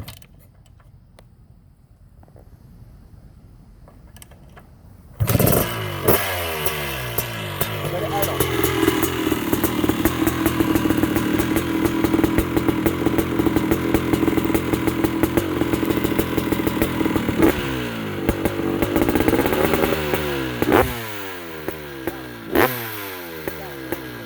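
A 1989 Honda CR500R big-bore two-stroke motocross engine being tested and tuned. It is quiet at first, then fires up abruptly and runs loud and close with a steady raspy idle and rising revs, ending in short sharp throttle blips.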